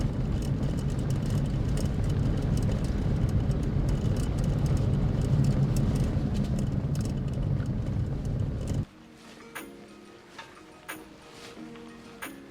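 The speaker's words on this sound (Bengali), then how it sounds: "গাড়ি চলেছে জঙ্গল ভেদ করে" Car driving a forest road through Dalma Wildlife Sanctuary in winter, a steady broad road and engine rumble for about nine seconds that cuts abruptly to a much quieter scene with faint sporadic sounds.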